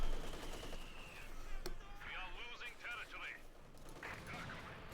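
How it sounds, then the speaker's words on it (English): Machine gun fire from Company of Heroes 2 rakes a church in an OKW versus Soviet match; rapid crackling bursts sit under a commentator talking steadily. "Machine gun being to rake the church with fire"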